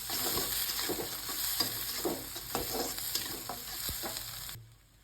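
Tomato roasting in an iron kadhai for a mutton fry gravy, a steady close sizzle with soft stirring scrapes through most of it, cutting off abruptly near the end.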